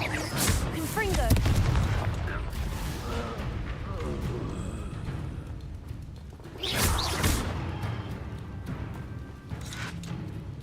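Confringo fire spells blast in Hogwarts Legacy, with booming explosions and whooshes layered over a busy battle din. Voices speak throughout.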